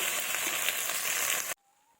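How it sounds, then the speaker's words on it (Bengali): Mutton sautés with stone-ground spice paste in a pan, giving a dense, loud, continuous sizzle that stops abruptly after about a second and a half, leaving near silence. "এইভাবে ভালোভাবে কষিয়ে নেব"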